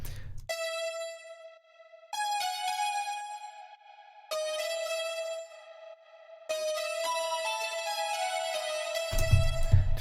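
A bright, buzzy 80s cyberpunk-style synth melody plays alone in sustained stepped notes with rich overtones, phrases changing every couple of seconds, ending with a low rumbling swell.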